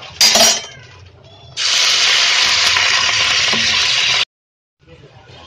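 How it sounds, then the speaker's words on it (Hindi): Onions fry in hot oil in a kadai for anda bhurji, a loud bright sizzle swelling after a brief clatter, holding steady for a few seconds, then cutting off abruptly. "देखिए प्याज कितने अच्छे से भून रहा है"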